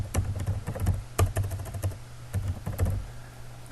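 Typing on a computer keyboard into a Notepad file gives a quick, uneven patter of soft key clicks with short pauses between bursts, close and clear, with no talking.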